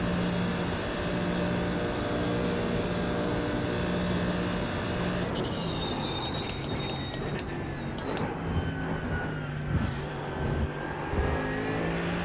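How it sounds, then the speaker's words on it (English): A GT3 race car running at Le Mans in the iRacing simulator gives a continuous, loud engine drone, with the pitch shifting through gear changes partway through and no voices over it. "this car sounds better on the outside than on the inside"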